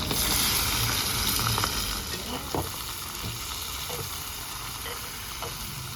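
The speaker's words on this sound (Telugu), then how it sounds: "ఆయిల్ కాగిన తర్వాత జీలకర్ర ఆవాలు వేసేసుకోవాలి." Cumin, mustard seeds and green chillies sizzle in about three spoons of hot oil, a dense close frying hiss that is loudest at first, with a few light stirring clicks.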